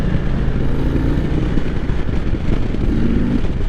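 A 2023 Indian Sport Chief motorcycle engine revs loudly and steadily up close, its deep throbbing exhaust rising in pitch around the middle and again near the end, with no talking.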